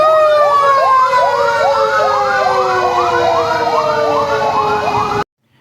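A fire truck siren wails loud and close from inside the moving truck, a steady, rapidly warbling up-and-down tone that runs for about five seconds and then cuts off.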